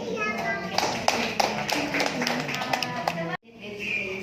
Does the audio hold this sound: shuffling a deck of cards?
no